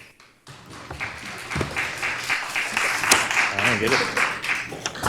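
An audience at a Sacramento City Unified School District board meeting applauds after a resolution passes, with clapping that swells and holds, mixed with cheers and chatter from the room.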